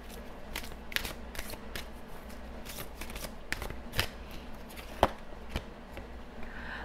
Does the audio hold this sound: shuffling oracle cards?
yes